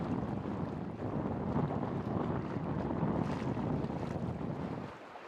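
Gusty high wind buffets a sailboat on a beam reach among islands off Orust, roaring steadily against the microphone with waves and water rushing beneath the hull, then dropping away abruptly at the end.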